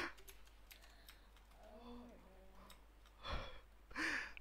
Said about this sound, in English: I think I pressed something in my keyboard.